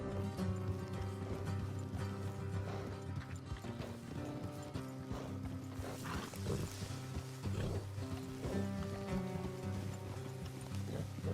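Horses in the open-world western game Red Dead Redemption 2 walk with steady clip-clop hoofbeats and an occasional whinny, heard close over a continuous ambient bed, with no talking.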